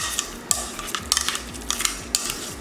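Grated Parmesan cheese is stirred into mashed potatoes for a Parmesan mash, with a utensil scraping and clinking against a pot or bowl in a few irregular strokes, close and fairly quiet.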